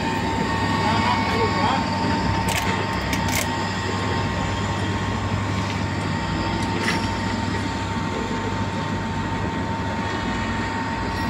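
Continuous heavy rumbling and droning of a track laying machine moving back and forth on the Indonesian high speed rail project, with a steady low mechanical hum and occasional metallic clanks.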